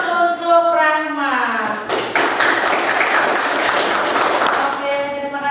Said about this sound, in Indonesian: Beri aplaus untuk Rahma.